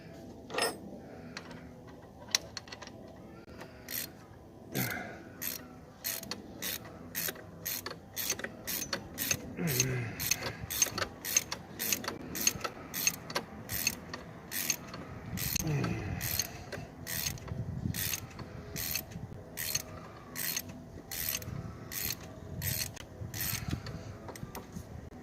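Socket wrench ratcheting a bolt on a 2000 Jeep Grand Cherokee engine during an ignition coil and spark plug job, a long, fairly quiet series of evenly spaced close clicks that quicken into a steady rhythm, with faint handling noise.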